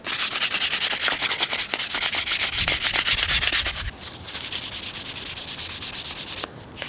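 A wooden kitchen spoon or butter spreader is hand-sanded with quick, steady back-and-forth rubbing strokes, close and continuous, then softer and quieter for the last few seconds.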